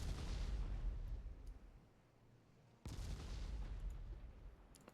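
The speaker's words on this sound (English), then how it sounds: "I'm gonna bombard them with high explosive for a little bit." Naval high-explosive shellfire in Ultimate Admiral Dreadnoughts, set in a 1906 Italian campaign: two deep booming blasts with long rumbling tails, fairly faint, without voices.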